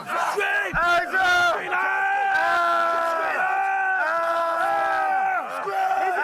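Marine recruits at boot camp scream and yell together during a drill, a loud, sustained chorus of raw voices that swells and breaks in waves.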